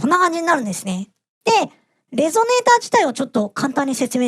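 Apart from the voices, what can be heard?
No everyday noises stand out.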